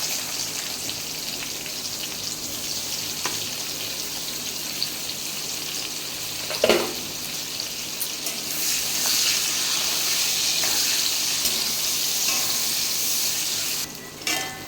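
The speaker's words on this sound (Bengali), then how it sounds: "পেঁয়াজটা আমার প্রায় ভাজা হয়ে এসছে" Onions frying in oil with bay leaf and whole garam masala for a jackfruit and prawn dish, a steady close sizzle that swells louder midway, with a few stirring clinks.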